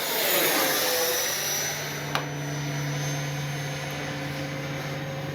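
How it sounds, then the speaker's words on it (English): A Freewing 90mm F-15C radio-controlled electric ducted-fan jet comes in to land, its engine a loud, steady rushing whine with a constant tone that eases slightly, broken by one sharp click midway. "First time ever landing this jet from the east."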